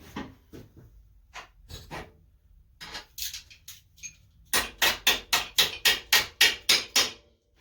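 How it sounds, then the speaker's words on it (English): Metal clanks at first, scattered and uneven, then a fast run of about ten sharp, loud hammer blows struck in steady rhythm close by, during engine removal from a Yamaha Virago 1100 motorcycle. "Everything's a hammer."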